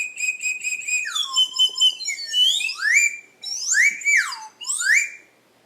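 A homemade adjustable deer antler whistle is blown in a string of loud, close, shrill notes that swoop and bend up and down in pitch, with short breaks between bursts.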